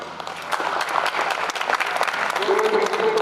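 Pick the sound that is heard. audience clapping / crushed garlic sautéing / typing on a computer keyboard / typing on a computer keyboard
audience clapping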